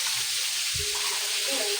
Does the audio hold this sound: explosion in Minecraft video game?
no